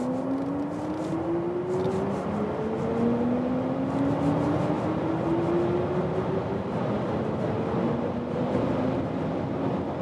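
BMW car accelerating hard in sports mode from 100 km/h, a steady engine tone climbing in pitch through successive gear changes under road and wind noise, heard from inside the cabin.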